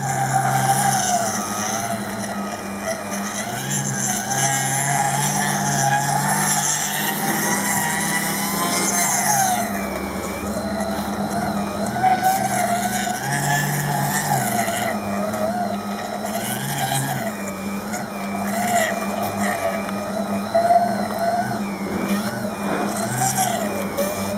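A Blizzard-style ice cream blender whirs continuously while blending bananas, a loud steady motor whine with a pitch shift partway through and some clattering, no talk.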